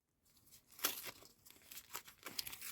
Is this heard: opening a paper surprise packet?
yes